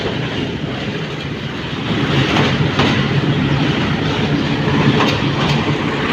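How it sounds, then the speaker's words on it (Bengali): A small local Surma Mail train in Bangladesh rolls onto the Gorashal railway bridge over the Arial Khan river after leaving the station, its steady loud rumble and rattle swelling partway through as the wagons clatter across, with no talk. "গুড়াশাল প্লাগ রেল স্টেশন ছেড়ে গুড়াশাল ব্রিজে ট্রেন উঠেছে এই যে দেখতে পাচ্ছেন গুড়াশাল ব্রিজ"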